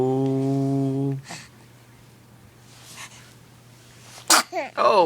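A baby's small, sharp sneeze bursts out after a long held vocal tone, with breathy snuffles and short sounds following close by.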